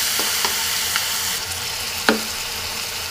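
Garlic paste and onion fry in a pan with a soft, steady sizzle while a spoon stirs them, scraping and tapping the pan in several short knocks, one sharper clack near the middle.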